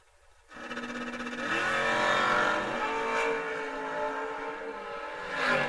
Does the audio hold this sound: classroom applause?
no